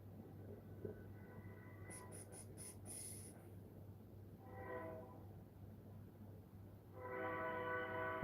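Train on a nearby railway line, with a steady low rumble underneath, a few faint high clicks, and two harmonic horn blasts, the second louder and longer as the train draws closer.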